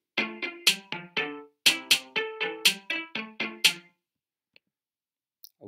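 A string instrument voice from Chrome Song Maker plays a short melody of about a dozen plucked-sounding notes in a steady rhythm, with no talking, then stops and leaves near silence.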